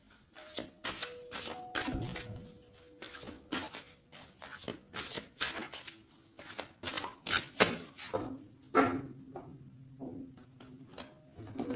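A deck of tarot cards is cut and shuffled by hand, giving dense, irregular riffling and slapping bursts at close range, with faint tonal hum in the background.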